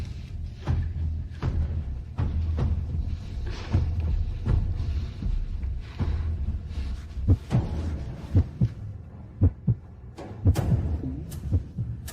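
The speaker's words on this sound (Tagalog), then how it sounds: "Bakit ang bilis ng tibok ng puso ko?" A fast heartbeat sound effect thumps in deep, regular double beats that grow sharper and louder toward the end, with no speech over it.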